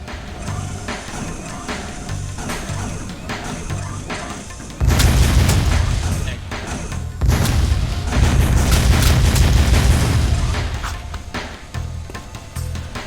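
Metalhead eggs exploding in the Jak II video game, two heavy booming blasts with rumbling tails that rise abruptly over a steady game soundscape, loud and close.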